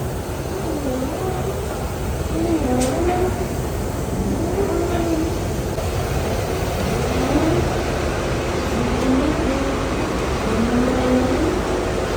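A grinding machine in a tea factory runs loudly like a kitchen mixer, a steady dense mechanical roar that fills the space without pause and carries faint whining tones on top.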